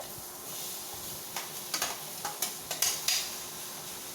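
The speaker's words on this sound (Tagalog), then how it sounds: "next na natin ay igigisa naman natin itong sayote." Chayote sautéing in oil gives a soft, low sizzle beneath a run of quick spatula scrapes and taps clustered in the second half.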